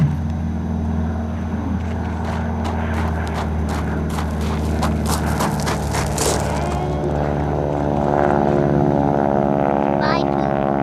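A propeller airplane takes off at Falcon Field airfield during a Veterans Day event, its loud, steady engine drone holding throughout with rising pitch, while people nearby speak over it.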